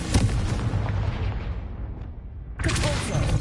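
A Confringo fire spell explodes in the Hogwarts Legacy video game, a booming blast followed by a decaying rumble that fades out, then a second sharp burst of fiery impact.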